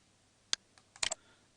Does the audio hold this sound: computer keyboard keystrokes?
yes